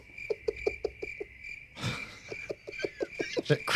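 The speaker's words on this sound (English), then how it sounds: "there's that moment where you need the crickets" Crickets chirp in steady, evenly spaced pulses over a constant high trill, interrupted by a brief burst of noise before the rhythmic chirping resumes, close and clear with no talking.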